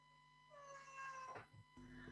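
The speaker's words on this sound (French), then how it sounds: "le chat, il est plutôt d'accord avec toi. Il est très causant" A cat gives a drawn-out, rising meow close by, followed by a shorter second call, quiet overall in an otherwise calm room without speech.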